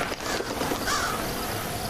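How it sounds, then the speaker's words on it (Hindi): Crows caw in the Hello Neighbor 2 video game, one clear harsh call standing out at mid-distance over a faint ambient background. "इतने सारे कौवे वगैरह कहाँ से आ गए?"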